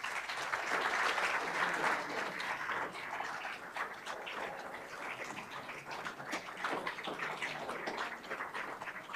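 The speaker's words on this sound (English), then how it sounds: "And you can give them a round of applause." Sustained applause from an audience at a municipal garden contest ceremony as the judges join the mayor, a dense, steady wash of many hands clapping throughout.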